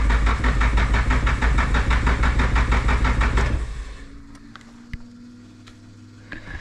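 A car engine with a weak fuel pump cranks over in a fast, even rhythmic chug for a few seconds without starting, then stops, leaving faint clicks and a low hum.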